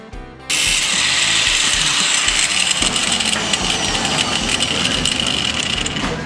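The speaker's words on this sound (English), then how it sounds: "We also won't be using these coolant ports on the throttle body, so we'll cut them off to clean it all up." A power tool starts abruptly and runs continuously, loud and close, with a high grinding whine and a shifting pitch as it cuts the coolant ports off the throttle body of a turbo Colt Vista wagon.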